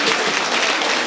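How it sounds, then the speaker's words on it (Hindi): Audience applause at an all-India mushaira poetry gathering in Siwalkhas, Meerut: a short dense burst of clapping, loud and close. "जोरदार ताली बजाएं"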